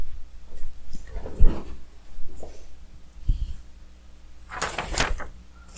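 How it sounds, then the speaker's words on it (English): Thumps and rattles as an indoor door is handled, a few knocks and clatters spread out, ending in a louder scraping swing, with no talking. "And that's the door."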